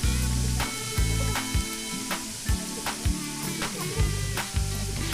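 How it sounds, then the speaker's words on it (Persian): Ground meat sizzles as it fries in a pan of butter and oil for shepherd's pie, a steady close hiss broken by repeated stirring scrapes. "خب الان گوشت چرخ کردمون رو اضافه میکنیم"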